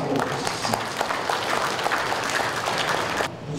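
Applause at a Buddhist ceremony celebrating Buddha's Birthday, steady, dense clapping from a gathered audience lasting a few seconds before stopping abruptly.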